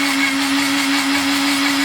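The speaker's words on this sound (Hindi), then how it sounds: "इसको अब हम मिक्सी में डाल के इसका पेस्ट बना लेते हैं।" A kitchen mixer grinder purees four chopped tomatoes into paste with a loud, continuous, close-up motor whine that holds steady throughout.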